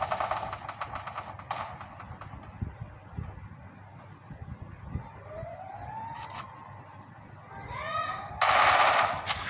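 Quick rattling bursts of MP5 submachine gun fire in Free Fire on the Kalahari map, fairly close at first, then scattered shots, whooshing effects and a loud final burst near the end.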